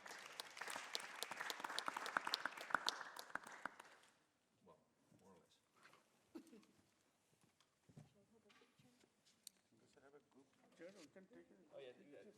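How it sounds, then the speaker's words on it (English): Warm audience applause for a panel at a water operators' congress fills the first few seconds, dense clapping that fades out, followed by someone talking. "a big warm applause for the people in the panel"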